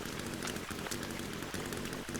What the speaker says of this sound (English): It's raining like crazy right here.